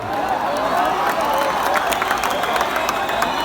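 Crowd clapping and cheering at a Govinda human pyramid festival, a dense, loud, continuous wash of applause and crowd noise from a large outdoor gathering.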